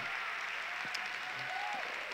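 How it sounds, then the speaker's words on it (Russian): Thin, scattered clapping from a small audience at a recruiting talk, a few hands patting unevenly against a soft background hiss. "Спасибо за жидкие аплодисменты."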